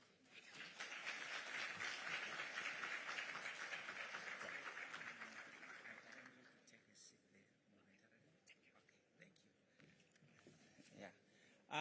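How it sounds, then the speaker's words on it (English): Audience applause at a conference after a professor's presentation on artificial intelligence, a faint, fairly distant round of clapping that fades out about halfway, followed by quiet room noise and murmuring. "A round of applause once again to Prof. Mshiri"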